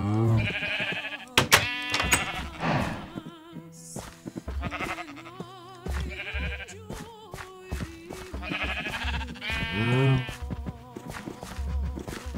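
Minecraft sheep bleating repeatedly in short wavering calls, loud and close, mixed with blocky footstep thuds and other game sounds, no talk.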